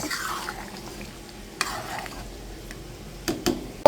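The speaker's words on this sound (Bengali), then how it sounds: "একটু নেড়ে চেড়ে নামিয়ে নিচ্ছি" Desi chicken kosha with potatoes and dried and green chillies stirred in a pan as it finishes cooking, with brief spoon scrapes and clinks breaking a fairly quiet background, clustering toward the end.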